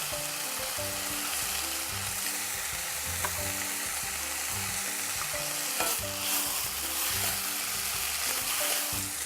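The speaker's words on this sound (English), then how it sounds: "Let it saute for 2-3 minutes. We will stir it while it is getting sauteed and cooked." Paprika and other ingredients sauté in a pan over low to medium flame, giving a dense, continuous frying sizzle with occasional soft stirring scrapes, loud and close and without talk.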